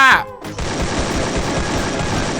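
Rapid automatic AK rifle fire in the mobile battle royale game Free Fire, a dense continuous burst that carries loud and steady for about two seconds after a short opening sound.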